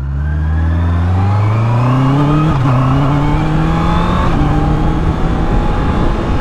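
A 2025 Honda CBR650R E-Clutch motorcycle pulls away in gear, its engine note rising steadily as it accelerates, loud and close, with a brief dip at a gear change before climbing again.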